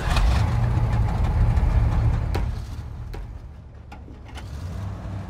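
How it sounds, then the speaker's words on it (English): A truck in SnowRunner, a snowy off-road driving game, fires up with a low, steady engine rumble that dips after a couple of seconds and settles into an idle, heard close with no talk. "we'll kill the engine and listen to this thing fire up"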